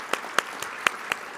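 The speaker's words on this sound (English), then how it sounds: "a big round of applause for Corewell Health, who is putting on today's event" Audience at a civic event applauding in appreciation of a health organization, scattered distinct claps at a moderate distance, fairly soft and brief.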